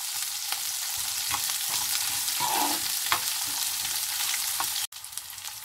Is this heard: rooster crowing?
no